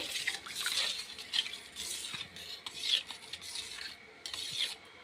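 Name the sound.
stirring boondi raita in a bowl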